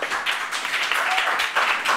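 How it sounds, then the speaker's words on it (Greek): Applause from an audience at a Greek entertainment venue as a new star singer is introduced, a dense, steady patter of clapping that fills the whole stretch without pause. "Παρακαλώ, χειροκρότημα."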